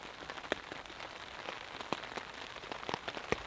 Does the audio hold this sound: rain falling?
yes